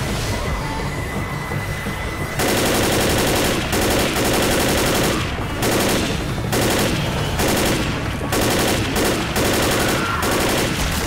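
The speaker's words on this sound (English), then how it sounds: "now you throw the pipe bomb" A thrown pipe bomb in Left 4 Dead sets off a loud, dense stretch of chaotic in-game noise, with rapid gunfire-like bursts and broad crashing blasts that keep breaking off and starting again.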